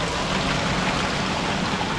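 A village drinking-water supply pours out under pressure near Dharchula in Pithoragarh, a loud, close, continuous rush of falling water with no pauses.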